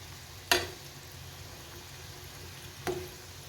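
Rice flour balls deep frying in hot oil give a soft, steady bubbling hiss, broken by two sharp clinks from a utensil against the pan.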